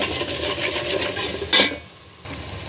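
Ginger paste and garam masala frying in a pan, giving a loud, bright sizzle with metallic scraping from a stirring utensil, then a brief pause before the sizzling resumes.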